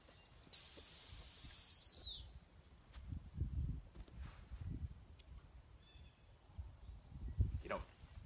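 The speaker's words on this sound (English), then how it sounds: "Stop to the whistle, pitch the bumper, come down, send her out" A single loud, piercing dog training whistle blast lasting about a second and a half during retriever handling practice, followed by quiet footsteps and rustling.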